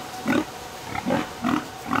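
Pigs on a farm raising grass-fed lambs and pigs grunt in four short, evenly spaced bursts, close and fairly quiet over faint background noise.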